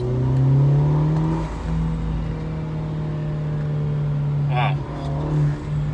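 A Mercedes engine fitted with a throttle pedal commander revs hard at around 4,000 RPM during acceleration on a main road, a steady loud drone heard from inside the cabin, with a brief spoken exclamation near the end.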